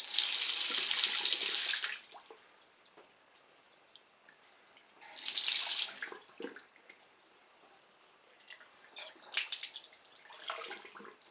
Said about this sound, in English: Okay, water's back on.